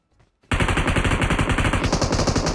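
Rapid automatic gunfire from a shooting video game bursts in after a brief quiet start, loud, close and continuous like a machine gun spraying.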